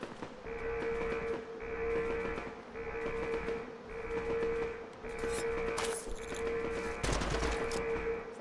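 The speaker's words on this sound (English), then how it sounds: "Someone's shooting at me." Video game gunfire rattles in rapid repeated bursts, with brief gaps between volleys, over a steady tonal game soundtrack; the shots stay fairly close and moderately loud.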